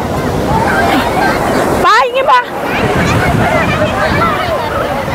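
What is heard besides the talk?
sea waves on Alleppey beach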